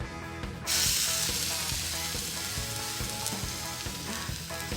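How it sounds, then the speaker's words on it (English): Chicken skewers hit a hot grill and burst into a loud, steady sizzle that continues without pause, with faint clinks underneath. "That sizzle is how I know I'm going to get those gorgeous char marks"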